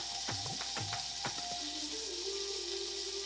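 A Wagyu ribeye steak seasoned with garlic, parsley and Montreal steak seasoning sizzles softly in a pan with rosemary, a steady faint hiss under a few light clinks and scrapes.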